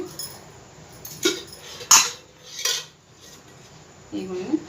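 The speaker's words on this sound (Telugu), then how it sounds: "ఇదే ప్యాన్లో మరి కొంచెం ఆయిల్ వేసుకుందాం అండి" A pan and metal utensils clatter in a few sharp, separate knocks and clinks, with a softer scrape at the end, as oil goes into the same pan for a phool makhana masala gravy curry.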